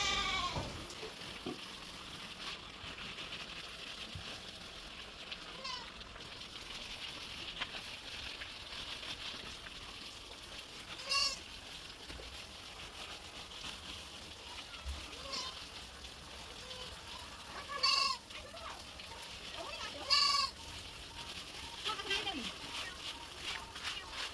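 Goats on a farm bleat a few times in short separate bursts while their pen and plastic slatted platform are washed down with water; the bleats sit over a steady background with some voices.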